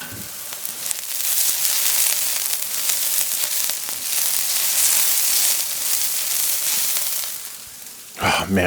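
Smash slider burgers with smoked cheddar sizzle loudly and steadily on a hot griddle, a dense close crackle that holds throughout before a brief scrape or clatter near the end.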